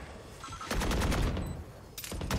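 Rapid bursts of gunfire from a tactical shooter match, a loud sustained volley of shots after a quieter lull, then another burst starting near the end.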